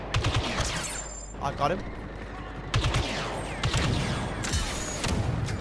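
Rapid semi-automatic blaster fire rattles in bursts throughout a Star Wars Battlefront II team deathmatch, loud and close, with booming impacts, while a player talks over the shooting.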